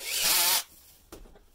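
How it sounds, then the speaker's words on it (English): A power drill fitted with a Milwaukee Red Hex bit pre-drills a wind turbine blade hub, running loud and high-pitched for about half a second and then winding down. A faint rub and another brief burst follow. "So we're just going to pre-drill these."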